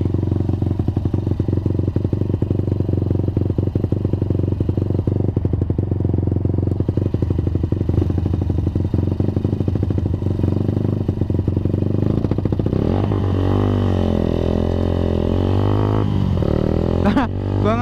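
A Suzuki Satria FU motorcycle engine revs loud and close, a continuous rattling roar that holds steady before rising and falling in pitch through repeated throttle blips near the end.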